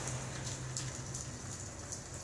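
Steady rain falls, a soft constant hiss with faint patters of drops, quiet and even throughout.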